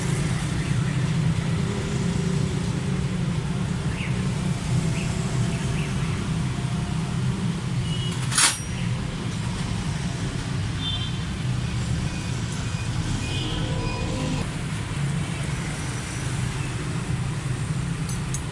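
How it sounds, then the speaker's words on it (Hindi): Idling Suzuki Cultus EFI engine with loose tappets, a steady low mechanical rumble running throughout with light ticking on top and one brief sharp click midway. "इसी गाड़ी के टैबडों की बहुत ज़्यादा आवाज़ है, साउंड है बहुत ज़्यादा ख़राब।"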